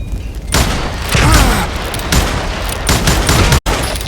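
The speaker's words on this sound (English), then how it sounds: "I'm gonna shoot you dead!" Gunfire during a duel in the Western shooter Call of Juarez Gunslinger, loud, dense bursts of shots and booming impacts rolling over one another for several seconds with a brief cut near the end.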